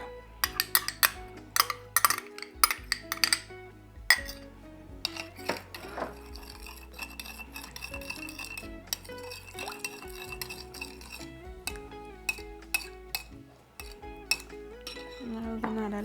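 Spoon clinking and scraping against a bowl while mixing Mexican shrimp cocktail with ketchup, irregular close metallic taps and stirring over steady background music, no talk.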